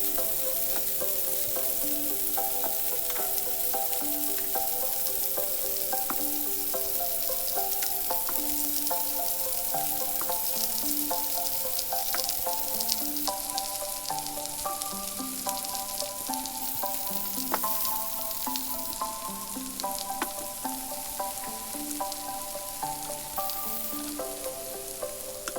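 Asparagus and zucchini fry in a pan with a steady, continuous sizzle that holds at an even loudness throughout, with faint tonal music playing underneath.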